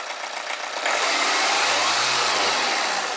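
A car engine runs steadily at idle after a cylinder head gasket change, a loud continuous rumble with a slight rise in pitch partway through and no talking.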